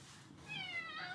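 A house cat gives one soft, drawn-out meow, faint and nearby against a quiet room.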